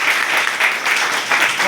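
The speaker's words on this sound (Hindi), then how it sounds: "एक बार परवेज आलम जी के लिए जोरदार तालियां" A short burst of loud, dense audience applause at a marketing plan presentation, clapping steadily from start to finish with slight swells.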